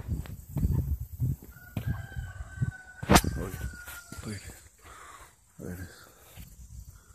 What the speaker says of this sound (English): Chicken. Pretty nice.